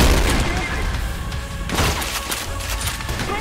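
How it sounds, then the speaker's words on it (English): A grenade detonates in the shooter game Trepang2, a heavy boom at the start followed by a dense wash of combat noise, further bangs and pops, with a voice speaking over the action. "Grenade!"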